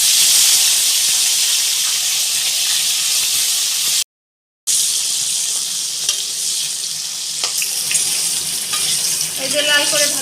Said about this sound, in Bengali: হয়ে গেছে মাছ ভাজাটা, এবার আমি তুলে নিচ্ছি।